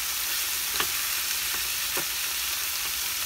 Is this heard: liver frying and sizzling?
yes